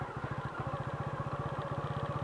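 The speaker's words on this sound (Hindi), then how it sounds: "बाइक बंद नहीं हुई।" A motorcycle engine runs at a low idle as the clutch is slowly released without added throttle, a steady rhythmic thumping chug that keeps going without stalling.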